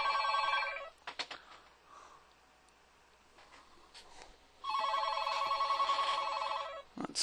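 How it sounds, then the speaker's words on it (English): An office telephone rings in two long bursts of electronic trilling, separated by a quieter gap with a few faint clicks and taps; the ring is close and loud, with no voices. "I'm running a business, so the phone's going to ring time to time"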